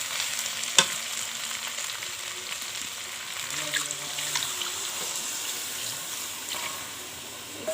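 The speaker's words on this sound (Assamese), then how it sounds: "আলু সিজিলে আৰু এতিয়া মই ইয়াত পানী দিম" Water poured into a pan of frying chicken and potatoes sets off a steady broad sizzle and bubbling hiss with a few faint clinks, running continuously at moderate level with no talk.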